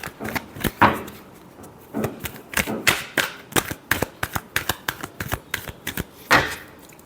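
Tarot cards being shuffled by hand close up, an irregular run of crisp slapping and riffling clicks in quick bursts with short pauses between them.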